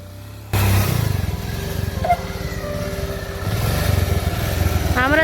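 A motorbike, ridden solo, chugs along a rough, broken downhill road: its close, steady engine pulses with small shifts in pitch and load throughout, and a brief rattle sounds partway through.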